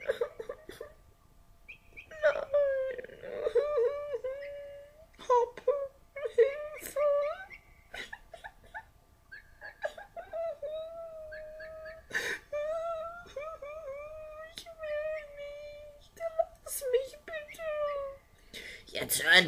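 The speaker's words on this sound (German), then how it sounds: "Jetzt hör endlich auf zu weinen." A marionette-theatre puppet character cries and wails in high, wavering whimpers and sobbing moans, repeated in bursts across the scene, close and fairly loud.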